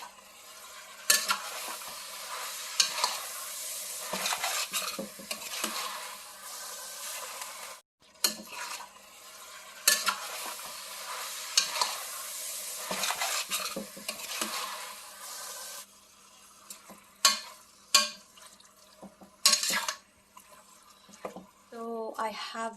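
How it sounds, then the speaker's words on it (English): Fatty meat for dinuguan simmering and being stirred in a pot, with a steady sizzling bubble broken by scraping stirs and a few clinks, close and moderately loud, with brief gaps and occasional voices. "we're going to try to simmer that"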